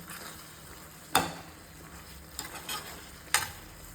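Lemon garlic soya chunks sizzle steadily in a pan under a soft frying hiss, with a few sharp scrapes and clacks from a stirring spoon.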